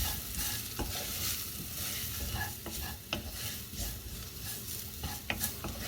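Curry powder frying in a pan hisses with a soft, steady sizzle, while a spoon scrapes and stirs in scattered clicks and taps, fairly quiet and close with no talking.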